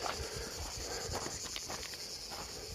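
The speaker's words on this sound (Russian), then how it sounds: "Цикады, слышите?" Cicadas at a beach in Novy Svet on the Crimean coast keep up a steady, moderately loud high-pitched buzzing drone, with faint rustling and footstep-like scuffs underneath and no talking.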